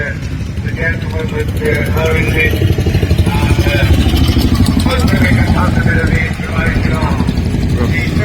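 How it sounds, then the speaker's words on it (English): Several motorcycles, including Royal Enfields and Japanese bikes, circle the ring at a steam rally in Oxfordshire with a continuous, loud, droning engine roar as people talk throughout. "Second time they're going around here. All the bikes and out of the ring."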